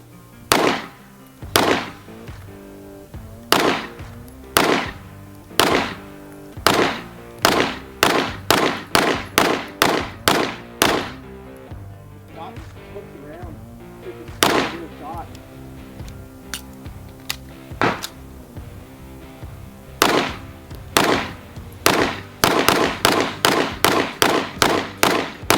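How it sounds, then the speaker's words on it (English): A Daniel H9 pistol fires a long string of sharp, loud shots in steady bursts and rapid runs, with short pauses between strings, echoing outdoors with no talk over it. "we just got done shooting the Daniel"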